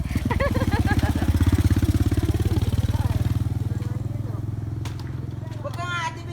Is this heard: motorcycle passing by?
yes